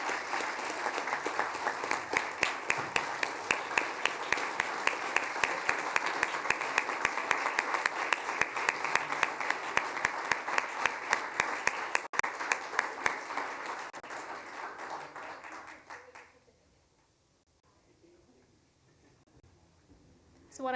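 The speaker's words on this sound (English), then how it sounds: "All right, so please give a great round of applause for Taylor Higgins." Round of applause at a telecommunicator awards ceremony: many hands clapping steadily with sharp individual claps standing out, fading away near the end to a near-silent room.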